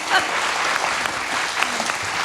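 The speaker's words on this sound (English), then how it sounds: "And another thank you and round of applause" A bookstore audience at an author conversation claps in a steady, dense round of applause, fairly close and even in loudness for its whole length, with no talking.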